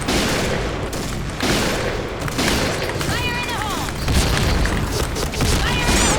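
Rapid bursts of gunfire and booming explosions from a Point Blank shooter video game, dense and loud throughout, with a voice talking over the action.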